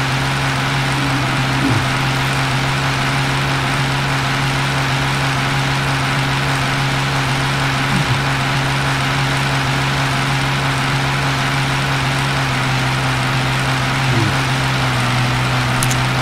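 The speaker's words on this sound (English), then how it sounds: "I didn't expect this tractor to be this loud." A tractor engine runs steadily and loudly throughout, a constant low droning hum with no pauses.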